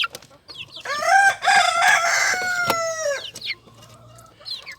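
A young native rooster, about two months old, crows in a long, wavering call with clear harmonics. Chickens cluck softly before and after it, all close by with no talk.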